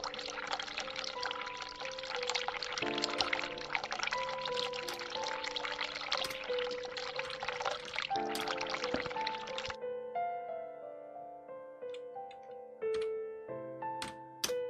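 Hot water pours steadily in the game The Cat Lady for about ten seconds, a broad rushing stream under sustained tonal music. It stops, and the music continues alone with a few light ticks.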